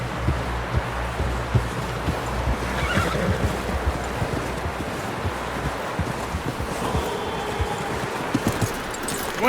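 A horse in the Red Dead Redemption 2 video game whinnies and snorts amid hoof clops and wind noise, fairly close and continuous.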